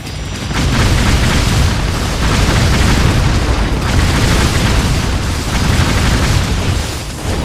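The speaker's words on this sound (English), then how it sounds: "look at all these explosions hitting the wall around me" Explosions in Ninja Gaiden 3 hitting a wall, a dense barrage of loud booms and bursts pounding continuously and close, with no speech over them.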